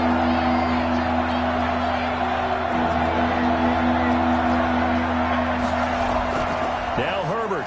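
A football stadium crowd roaring on third down, a constant loud wall of noise that swells and holds throughout, with a commentator talking over it.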